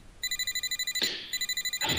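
A phone rings in a German-language visual novel game, a rapid electronic trill of short pulses in two bursts with a brief gap between them, clear and alone with no voices.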